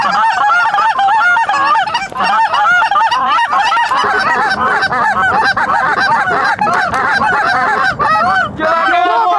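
Lesser Canada geese honking overhead while hunters lie beneath decoys, a dense, loud chorus of overlapping honks from a passing flock running continuously throughout.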